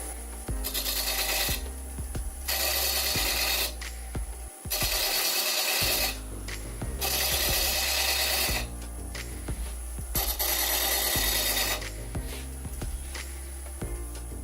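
Wood lathe taking light cuts on the base of a small lidded box with a pewter rim, a close scraping rasp in repeated bursts of about a second each over the steady motor hum, with no talk.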